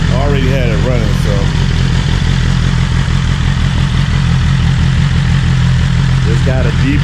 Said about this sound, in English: it's got a deeper growl to it with the valve just open.